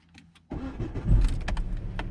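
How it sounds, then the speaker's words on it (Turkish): A Citroen C4 engine cranks and catches after a quiet opening, then settles into a steady close idle, alone without talk. "Araç çalışıyor."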